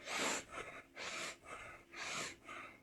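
Forceful rhythmic breaths from a guided breathwork exercise, about five sharp inhale-exhale bursts in steady alternation, close and loud with no talking.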